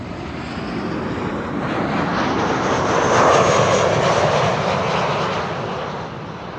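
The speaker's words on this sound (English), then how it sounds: "This is Tarom Flight 361, arriving from Bucharest. It's a 737-700." A Tarom Boeing 737-700 airliner arriving at Amsterdam Schiphol roars past loudly, its engine noise swelling to a peak midway and then easing off, with no talking.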